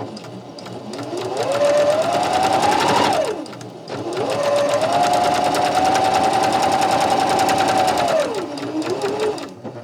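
A sewing machine runs in two long bursts, stitching a straight seam 1.5 cm from the fabric edge, its motor whirring up to speed and winding down with a rapid needle clatter, loud and close.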